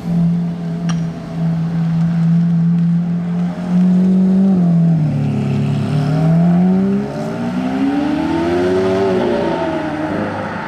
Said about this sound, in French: le départ du V12, là je l'attendais celui-là